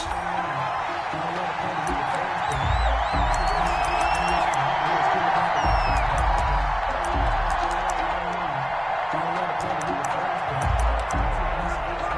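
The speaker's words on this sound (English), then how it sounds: "This crowd is ready as their guys get set to match up between the Cincinnati Bengals and the Baltimore Ravens." A stadium crowd in an American football video game between the Cincinnati Bengals and Baltimore Ravens roars as a broad, continuous wash of noise beneath a commentator's voice, which dominates throughout.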